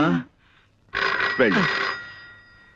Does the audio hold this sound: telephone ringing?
yes